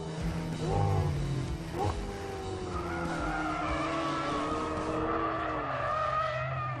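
McLaren 720S drifting with variable drift control set high, tires squealing in long wavering screeches over a loud, steady engine note, close and sustained throughout.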